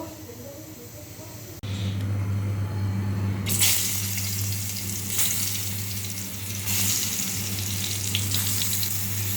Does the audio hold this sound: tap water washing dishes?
yes